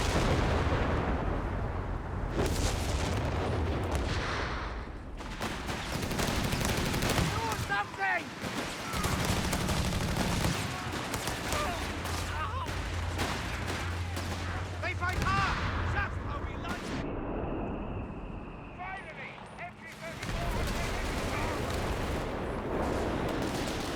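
Artillery fire in a Company of Heroes 3 multiplayer battle: repeated heavy booms and crackling gunfire layered through a busy, loud wartime mix, with a commentator talking over the action throughout.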